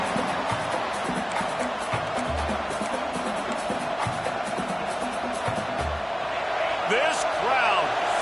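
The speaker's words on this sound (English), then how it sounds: "This crowd, full throat, splitting the eardrums" A large stadium crowd at a football game keeps up a steady, full-throated roar, with a commentator talking over the noise.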